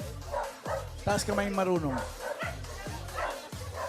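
A dog in a television studio barks repeatedly in a steady rhythm, about two yaps per second, fairly close, while a person talks over it.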